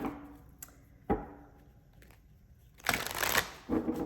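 A deck of cards is riffled and shuffled in two quick bursts, preceded by soft taps and clicks of cards being handled on a table.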